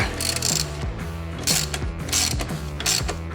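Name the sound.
tightening bolts on Voge 300 Rally rear suspension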